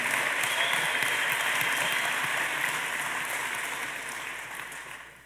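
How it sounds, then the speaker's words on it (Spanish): Applause from a church congregation fills the space, steady dense clapping from the start that stays loud and then tapers off toward the end. "Démosle al Señor otro aplauso."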